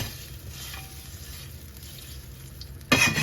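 Butter and olive oil sizzle steadily in a hot pan, a soft continuous frying hiss, with a sudden louder burst of crackling near the end.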